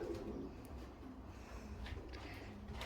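A racing pigeon coos softly during young-bird training at a loft, a low, steady murmuring call set against faint outdoor background noise.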